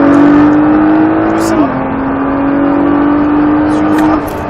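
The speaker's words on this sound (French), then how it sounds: "On débraque, on accélère plus fort." A 550 hp Nissan GT-R accelerates hard on the Circuit de Bresse, its engine a loud, steady rising drone that dips briefly at an upshift and then climbs again, while an instructor speaks over it.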